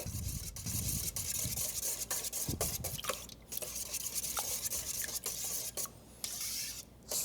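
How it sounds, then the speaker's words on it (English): Eggs whisked in a bowl for an egg bake, giving a fast, steady run of wet stirring and scraping strokes that is close and continuous, with no talk. "just making sure that our eggs are nice and beaten together, a nice, good, smooth mixture"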